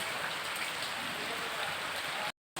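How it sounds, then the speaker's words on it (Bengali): Monsoon rain pours down steadily in an evening downpour, a dense, even hiss of drops hitting surfaces that continues without pause before cutting off into brief silence at the end. "এই বৃষ্টির এই সুন্দর আনন্দ উপভোগ করছি"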